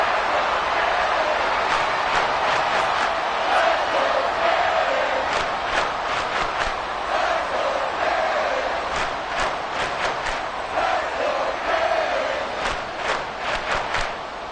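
A stadium crowd in Madden 24 roars and cheers throughout an NFL football game, a loud, sustained wash of massed voices with repeated surges and rhythmic bursts, and no speech on top.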